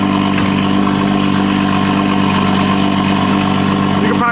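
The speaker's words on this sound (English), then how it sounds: "Let that thing idle down." A Toyota MK5 Supra with a Boost Logic titanium exhaust idles loud and close, a steady deep rumble that holds constant before a brief blip of revs at the end.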